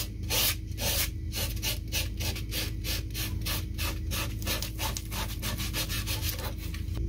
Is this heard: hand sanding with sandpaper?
yes